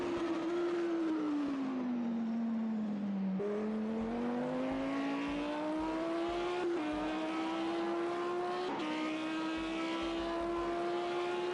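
A Lamborghini race car in Project CARS 2 at Fuji Speedway screams loudly and steadily, its engine pitch climbing through gear changes with brief drops at each shift.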